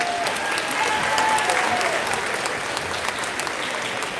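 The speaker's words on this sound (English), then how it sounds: "Can we give the 6th grade band another big round of applause for their work?" A middle school winter concert audience gives the 6th grade band a sustained round of applause, a dense steady wash of many hands clapping at once, filling the hall without letting up.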